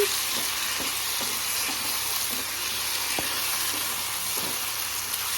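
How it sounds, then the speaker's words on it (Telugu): Chicken fries on high flame in a pan with a steady loud sizzle, while a spoon stirs through it, adding occasional faint scraping taps. "ముందు చికెన్ వేసిన వెంటనే స్టవ్ అయితే హై ఫ్లేమ్లో పెట్టేసి ఒకసారి కలుపుకోవాలి"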